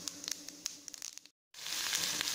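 Onion, green chili and curry leaves sauté in an oil pan after mustard seeds and urad dal have popped, giving a steady close sizzle with crackly spits, a short silent gap, then louder frying.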